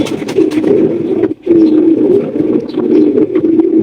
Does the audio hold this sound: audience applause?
no